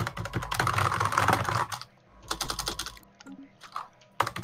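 Fast, close clatter of computer keyboard typing during a Stellaris game stream, in bursts separated by short pauses, with a final sharp keystroke.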